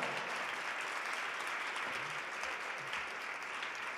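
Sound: audience applause at school award ceremony

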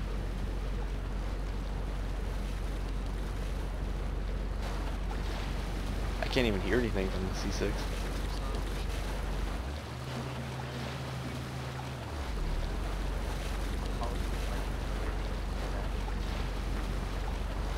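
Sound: military boats motoring on water

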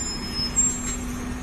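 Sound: night bus driving past on a city street

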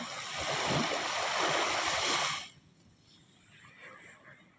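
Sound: river flowing

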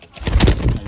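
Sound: decoy dove cooing

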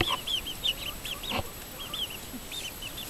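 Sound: bearded chicken clucking

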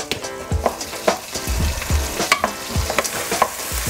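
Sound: onions frying in oil

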